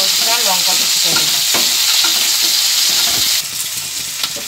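Chopped onions fry in hot oil in a pan, a loud, dense sizzle with soft stirring scrapes, close up and steady, easing slightly toward the end, with no one speaking.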